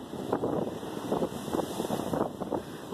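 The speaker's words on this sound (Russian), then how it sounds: "посмотрите, как захлестывают волны" Waves crash against a wall on an island in strong December wind. Gusty wind roars across the microphone, and repeated broad surges of water rise and fall beneath it.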